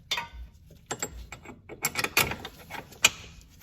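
A bolt, nut and washer fitted to a front upright bushing bracket on an NSX: a few metallic clicks, taps and ratcheting sounds in short bursts, close and fairly quiet, with no talking.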